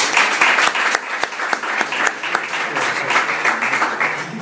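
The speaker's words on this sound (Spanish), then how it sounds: "Ese es José Alberto, para el que os pido un aplauso." A crowd applauds steadily throughout, dense overlapping claps forming a continuous wash of sound at fairly close range.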